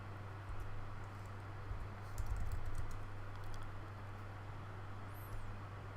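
Keys on a computer keyboard tap in a short burst, faint and slightly distant, over a steady low hum and background hiss, with no talking.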